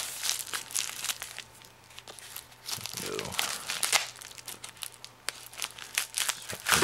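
Knife packaging is cut open and crinkled up close, giving rapid plastic and paper rustles, crackles and a short tearing pass.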